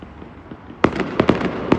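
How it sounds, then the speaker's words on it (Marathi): Fireworks on a city fireworks night in Brighton: a low, steady rumble, then a run of sharp, loud bangs and crackling bursts at uneven intervals, with no talk. "दिवाळी दिवशी पण एवढं फटाकड्या बघितले मी ब्रायटन मध्ये."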